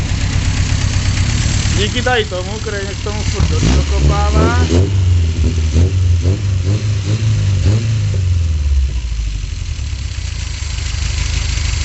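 A Škoda 136 GL car engine with an aftermarket tuned exhaust, idling roughly and then revved up and down several times, loud and close, while someone talks over it.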